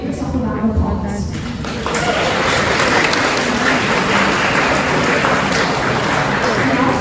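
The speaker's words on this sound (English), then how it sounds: "Give yourself a round of applause" A graduation audience breaks into loud, dense applause that swells after a brief spoken moment and keeps up as a steady roar of many clapping hands.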